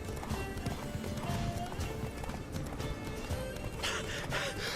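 Hooves of Roach, Geralt's horse in The Witcher 3 video game, clip-clop at a steady gallop, loud and close, with a brief whinny among the rapid beats and continuous game ambience underneath.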